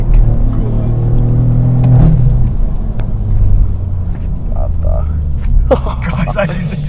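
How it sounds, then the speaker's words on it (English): Straight-piped BMW 218i three-cylinder rumbling on overrun in a steady low drone with a deep burble, while people talk and exclaim excitedly over it. "Is that the overrun noise?"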